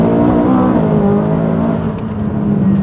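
A tuned McLaren 570S sports car engine with about 150 extra horsepower, heard up close, holds a steady, loud, deep drone with a strong low hum as it pulls under power.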